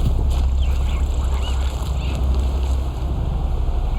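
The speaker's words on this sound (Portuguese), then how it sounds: "que bonito, uma cachoeira" Steady rushing water of a waterfall in the game Horizon Zero Dawn, a continuous broadband roar with low rumble and faint bird calls above, no voices.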